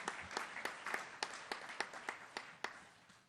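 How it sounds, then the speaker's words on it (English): Sparse applause from a small crowd at a mayor's budget presentation, faint and distant, with a few scattered claps standing out in an uneven rhythm. "if you guys would give them a round of applause"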